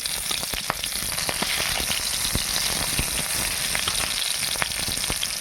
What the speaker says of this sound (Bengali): জিরে 5 ফোড়ন দিলাম, টমেটো আর পেঁয়াজটা দিয়ে দিলাম।